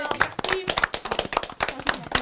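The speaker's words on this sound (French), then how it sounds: "On applaudit." A small group applauds at a pastry-trade event, a few people clapping nearby in uneven, distinct claps rather than a dense roar, with voices mixed in underneath.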